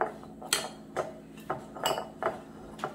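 Utensils mixing a salad seasoned with salt and pepper in a bowl, a rhythmic series of close clinks and scrapes repeating roughly every half second, no talking.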